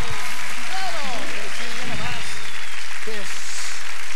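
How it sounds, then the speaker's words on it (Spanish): A theater audience claps loudly and continuously at a 1997 comedy show, a dense steady wash of applause with voices calling out over it. "Pero venga el aplauso bonito."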